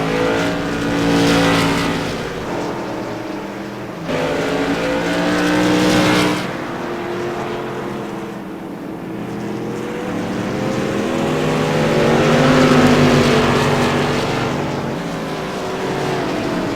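Tour Modified race cars roaring around Thompson Speedway, loud sustained engine drone with pitches rising and falling as cars pass and accelerate, several overlapping motors in a continuous pack.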